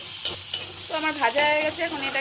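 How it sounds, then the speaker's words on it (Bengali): Onion, garlic and dried chillies frying in a pan make a loud, close sizzle with quick scraping stir strokes and a few clinks of a utensil, no speech. "দেখো হালকা করে পেঁয়াজ ভাজা, হালকা করে রসুন ভাজা"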